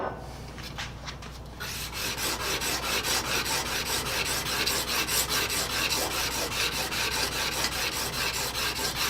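A rebate plane being flattened on abrasive grit paper, moving from 100 to 150 grit, gives a steady, close, rhythmic rasping of metal scrubbed back and forth, starting softer and growing louder and denser after the first couple of seconds.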